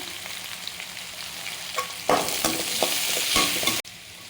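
Garlic, ginger and onion sautéing in hot oil for vada curry, with a loud continuous sizzle broken by sharp spatula scrapes and knocks against the pan, ending in an abrupt cutoff; no talking.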